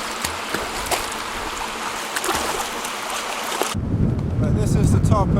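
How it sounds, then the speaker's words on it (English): Gale-force wind buffets the microphone atop Lint's Tor on Dartmoor, a continuous loud rumbling roar that swells stronger toward the end. "I hope you can hear me over the wind. It's blowing an absolute gale up here"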